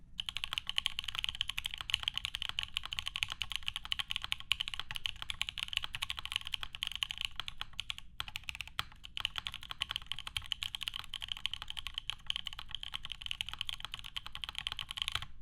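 Steady, continuous typing on a 60% Martingale mechanical keyboard with GMK Shoko keycaps, a dense run of clicky, somewhat hollow keystrokes with a brief pause midway, close and alone without any voices.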